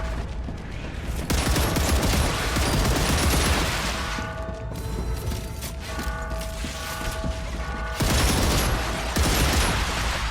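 Rapid gunfire in the video game StarRupture, loud sustained bursts with mechanical clanks and ratcheting reload sounds between them, alone without talking.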